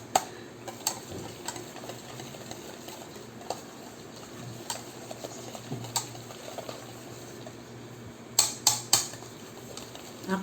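Eggs and pastry batter stirred by hand in a bowl, producing a soft, steady run of small ticking scrapes with a few sharper clinks of the spoon against the bowl near the end.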